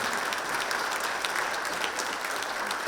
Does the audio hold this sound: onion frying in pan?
no